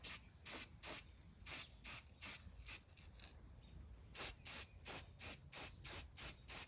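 Aerosol spray paint coating a fishing rod blank in fluorescent green, heard as a steady train of short hissing bursts repeated in a regular rhythm with a brief pause midway, close and fairly quiet.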